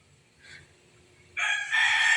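A rooster crows loudly and close by, a long ringing call after a brief quieter cluck.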